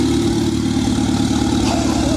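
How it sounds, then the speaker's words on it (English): A Toyota Sera's engine idles smoothly just after its first start following a full rebuild, a close, steady low rumble with an even pulsing beat. "that is idling beautifully"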